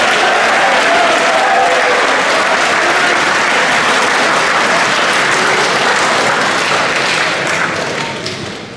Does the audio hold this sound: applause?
yes